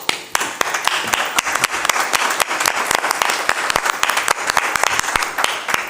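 An audience at a school board meeting claps loudly and close by, sharp irregular hand claps filling the whole stretch without a break and with no talk over them.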